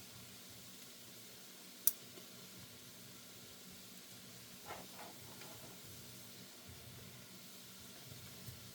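Homemade salmon patties fry in hot oil with a faint, steady hiss and sizzle, a quiet background texture broken by one sharp click near the start.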